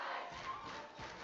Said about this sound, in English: I don't know if they can hear the crowd here, but they are quite excited about their home team here.